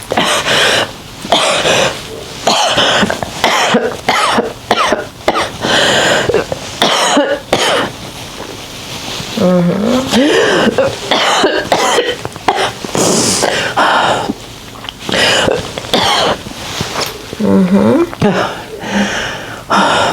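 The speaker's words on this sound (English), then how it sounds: "Cough it all out." Repeated harsh coughing and throat clearing, forceful and close, coming in irregular bursts one after another with short gasps between.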